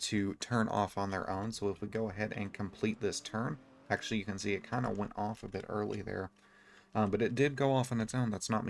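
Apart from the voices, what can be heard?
No distinct noise like a dog, phone or traffic.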